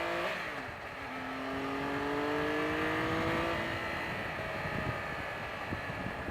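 A 2018 Triumph Tiger 1200 XCA motorcycle engine hums steadily while being ridden, its pitch gliding up and then settling, heard close under constant wind rush.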